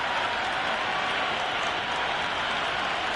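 Cricket video game crowd at an Australia versus England match, a steady dense roar of cheering and applause filling the whole stretch with no let-up.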